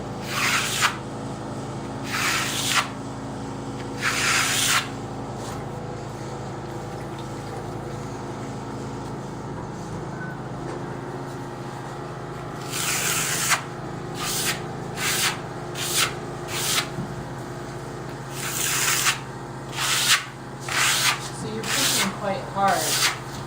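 A trowel burnishes clay plaster on a wall in short scraping bursts, some single and some in quick clusters, close by over a low steady background hum.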